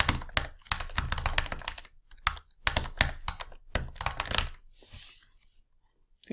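A computer keyboard is typed on at close range: quick clusters of crisp keystrokes in uneven bursts for several seconds, then a pause and a few faint clicks.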